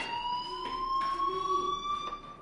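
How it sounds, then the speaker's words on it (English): Fire alarm ringing in the video game Life is Strange, a continuous electronic tone with steady pitch and faint repeating pulses, alone and moderately loud. "Hey, do you hear that fire alarm?"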